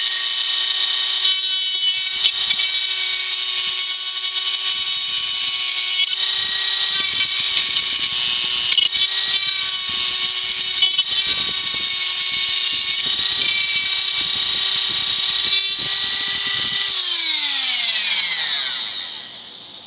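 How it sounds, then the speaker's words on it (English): A Dremel rotary tool fitted with a utility bit cuts into a plastic peg on a Nerf Elite Rampage blaster, giving a loud, steady high-pitched whine with grinding bursts that winds down as the motor stops near the end. "If you're ever going to use a Dremel, especially at a high speed, you should definitely be wearing safety glasses."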